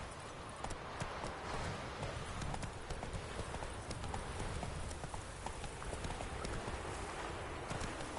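Roach the horse gallops in The Witcher 3, with rapid, continuous hoofbeats thudding close and steady against a rushing background of movement.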